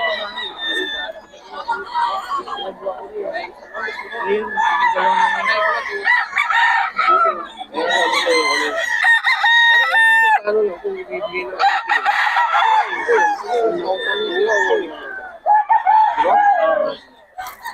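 A Boston Sweater gamecock rooster crows repeatedly at a busy livestock market in Bocaue, its loud calls rising over steady chatter and talking voices nearby.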